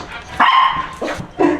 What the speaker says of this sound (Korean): 강아지가 말을 잘 듣네요.